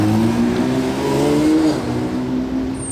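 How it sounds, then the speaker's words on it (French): Purple sports car with grey wheels and yellow brake calipers revs its exhaust loudly and close by, the engine note climbing and sustained steadily throughout, with no voices. "Échappement qui sonne bien."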